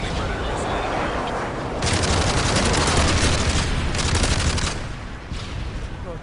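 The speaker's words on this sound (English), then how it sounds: "Delta airstrike on the way. Friendly Predator missile inbound." Dense video-game battle barrage of airstrike and missile explosions mixed with continuous gunfire, swelling louder in the middle, with voices talking over the din.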